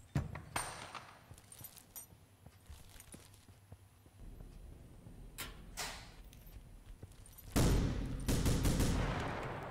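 Turret gunfire in the video game The Final Station, a run of sharp shots and bursts with clattering impacts, growing louder and denser toward the end over a steady background.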